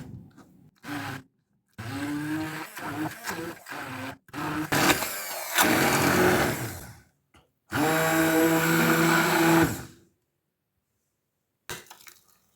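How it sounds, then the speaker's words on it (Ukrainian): A blender whirs through a cheese batter for a pumpkin-cheese pie in several bursts, starting and stopping with brief pauses, then a longer steady run before going quiet. "Перебити масу блендером."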